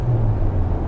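A Toyota Corolla Cross hybrid under full throttle climbing uphill, its engine giving a steady low drone with a rising hum, heard close from inside the cabin.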